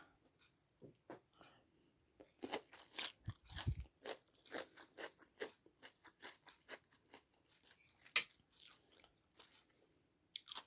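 Crunchy chewing of Thai papaya salad with blanched vegetables, close to the mic: repeated crisp bites and mastication in an irregular rhythm, with a few louder crunches and small crackles throughout.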